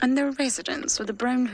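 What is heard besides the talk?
No everyday noise stands out behind the speech.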